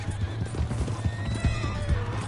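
In the Red Dead Redemption 2 video game, hooves clip-clop in a quick galloping rhythm while a horse neighs and whinnies close by, moderately loud over a low rumbling game soundscape.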